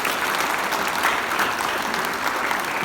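An audience at a Hindi comedy talk claps in a full, even burst of applause that continues for a few seconds.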